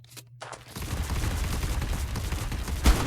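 Sustained gunfire aimed at the gamma broodmother boss in the video game ARK comes in as a dense, continuous rumble of shots after a brief quiet start, with one sharper blast near the end.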